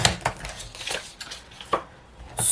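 A strip of beige paper being cut for a scrapbooking album, with a few short, close snips and crisp rustles spaced irregularly across a quiet background.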